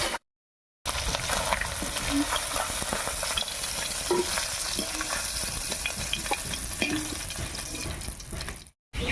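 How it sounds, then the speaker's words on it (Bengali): Live singi catfish frying lightly in hot oil give a steady, dense sizzle with spatters and stirring scrapes, loud and close, broken by brief gaps at the start and end. "জ্যান্ত শিং মাছ একদম হালকা করে ভেজে নিয়েছি এবার নামিয়ে নিচ্ছি"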